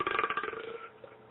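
A person burps into a bag, giving one throaty, rumbling belch that is muffled and fairly quiet and trails off over about a second.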